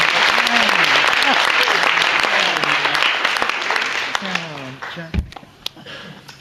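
A crowd applauds a contestant at a mental arithmetic competition, the clapping running under overlapping voices and tapering off as talk continues.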